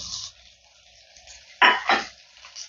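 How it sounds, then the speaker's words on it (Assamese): Cumin seeds and a small chopped onion frying in hot mustard oil, a low background hiss broken by two sharp, loud bursts of sizzling close by as the onion hits the pan. "জিৰাকেইটা ফুটাৰ লগে লগে এটা সৰু পিঁয়াজ কাটি ইয়াতে দি দিছোঁ।"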